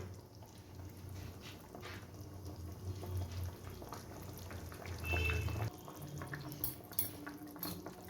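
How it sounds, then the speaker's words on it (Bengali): Bengali fish curry with potatoes bubbling quietly in a pan, a faint soft simmer with small intermittent pops and drips, low and steady throughout. "মাছগুলো দিয়ে ভালো করে মিনিট খানেক ফুটিয়ে নেব"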